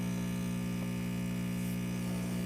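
An espresso machine pulls a shot through a high-extraction basket, giving a steady, continuous pump hum that stays level and close throughout, with no talking.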